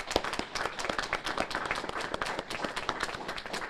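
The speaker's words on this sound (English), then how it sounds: "Can I get everybody here just to clap for them for a second?" An audience at a city officials' press conference on a homicide investigation claps together, a dense steady patter of many hands for nearly four seconds at moderate distance.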